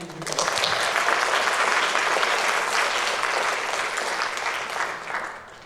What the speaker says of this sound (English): Let's give a big round of applause to Ben.